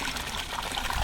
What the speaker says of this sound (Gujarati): ઘાસમાં પાણી ચાલુ કરવું પડ્યું છે